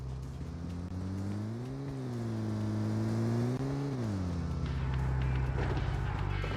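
Car engine in PUBG Mobile, a low droning hum that rises and falls as it revs up and eases off twice, steady and close throughout.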